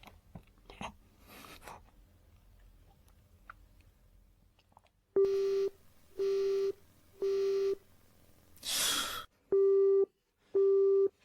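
A telephone call rings out unanswered: after some quiet handling noises, a loud, steady series of evenly spaced ringback tones pulses in regular on-off bursts, briefly interrupted by a short hissy rustle.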